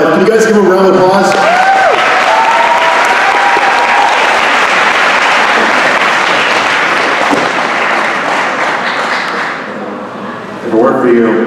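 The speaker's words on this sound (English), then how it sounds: "Can you guys give him a round of applause?" Audience at a 2022 graduation ceremony breaks into loud, sustained applause after a keynote speaker's prompt, steady clapping and some cheers for about nine seconds before fading, with a voice speaking briefly at the start and again at the end.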